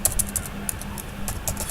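Quick, uneven clicks of keys come from a computer keyboard being typed on nearby, sounding light and irregular over faint room noise.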